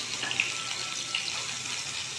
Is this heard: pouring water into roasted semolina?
yes